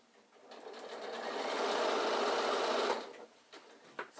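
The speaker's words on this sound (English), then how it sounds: "Sew until you're about 1 centimetre away from that edge again." A sewing machine stitches the fabric of an insulated picnic bag in one steady, close whirring run that swells and then stops, followed by a few light clicks.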